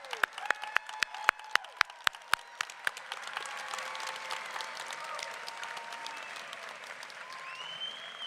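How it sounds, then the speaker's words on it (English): Audience applause at a college nursing pinning ceremony, opening with a few sharp, evenly spaced claps that swell into a sustained, moderately loud round of clapping from a crowd indoors. "can we give one more round of applause for this amazing group of students"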